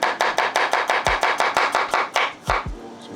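A knife chopping onions on a board for a Ghanaian palava sauce stew, around a dozen crisp, evenly spaced cuts in a steady quick rhythm, close and clear with no talking.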